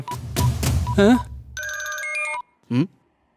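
A telephone rings with a sustained electronic trill lasting about a second, near and clear, between short bursts of speech before and after.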